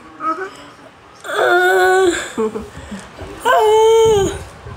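A human voice imitates a howl: two long wailing howls up close, with short vocal sounds before them.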